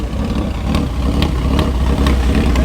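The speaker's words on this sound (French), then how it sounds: "Il n'y a pas meilleure bande son quand même, je trouve, que des vieux moteurs des années 60 qui gueulent là." Old 1960s car engines at the historic Bona hill climb, a loud, steady, rumbling drone of running engines with faint periodic sharp peaks and no talking.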